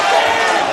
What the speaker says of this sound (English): listen to the crowd cheering